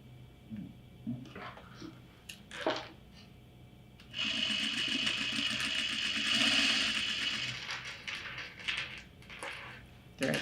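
A sewing machine stitches bag straps at a half-inch seam allowance, running in one sustained burst of fast mechanical whirring after a few handling clicks, then stopping and starting briefly.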